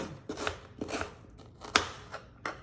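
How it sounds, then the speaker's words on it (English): A kitchen knife chops an onion on a cutting board in a home kitchen, making five or six separate, sharp knocks at an uneven pace, close and fairly loud, with no talking. "I do not chop the onion small"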